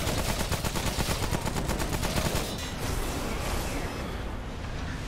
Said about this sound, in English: those little explosions